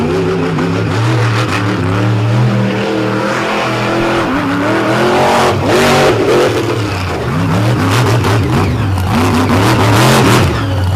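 Off-road racing truck engine revving hard at an all-star championship round in Brooksville, loud and close, with rising and falling throttle bursts and a rough, sustained roar throughout.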